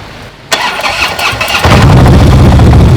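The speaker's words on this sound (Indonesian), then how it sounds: "kita nyalakan motornya" A big-bike motorcycle engine cranks, catches and settles into a loud, steady rumble right up close, with no talking.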